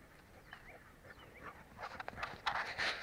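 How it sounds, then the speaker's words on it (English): A dog scuffles and yips on a turkey hunting outing, faint whimpers and snuffling that turn into louder, busier bursts toward the end. "Cute dog, but dumb dog."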